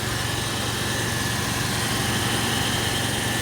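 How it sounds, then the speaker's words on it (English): A Mazda RX3 Savanna rotary engine idles at close range, a steady low throbbing burble with an even, unbroken rhythm and no talking. "That engine sounds sweet"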